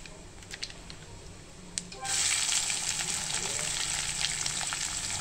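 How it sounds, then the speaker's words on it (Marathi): Chopped onion drops into hot tempering oil with sesame seeds for dahi bhindi, setting off a sudden loud, crackling sizzle that continues steadily after a few faint clinks and taps. "आता ह्याच्यामध्ये आपण कांदा टाकूया।"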